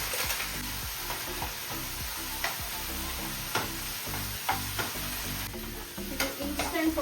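Instant puliyogare powder frying and being stirred in a kadai with tamarind base, a steady close sizzle with irregular scraping and clinking strokes of the spoon throughout.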